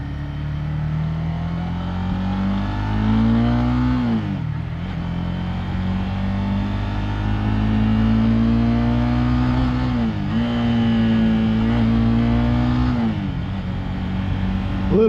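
A motorcycle on a road pulls away and climbs through the gears, its engine tone rising in long sweeps with brief dips at each shift, loud and close from onboard, no talking.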